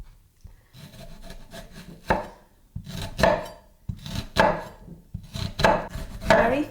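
A knife slices half a large red onion very finely and thinly on a board, a steady run of crisp close cuts grouped in quick bursts with short pauses between, no talking.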